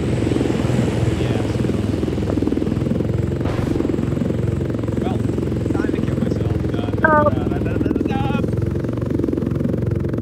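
The drone of an aircraft engine in a video game runs loud and steady throughout, with a few brief chirping effects layered on top near the end.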